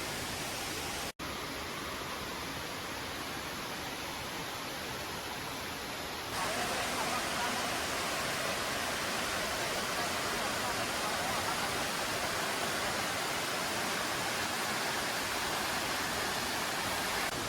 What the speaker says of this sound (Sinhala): විශාල ඇල්ලක් මේක.